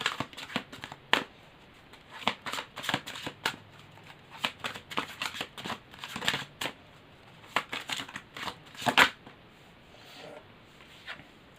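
Tarot cards shuffled and laid out by hand, with quick crisp riffles and flicks in irregular bursts, close and fairly quiet, separated by short pauses.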